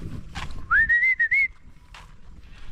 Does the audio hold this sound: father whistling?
yes